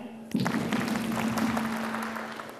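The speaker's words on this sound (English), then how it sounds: "Clap." An audience at a coaching session in a yacht haven event centre gives a short burst of applause. The clapping is fairly close, set over a steady hum, and fades off after about two seconds.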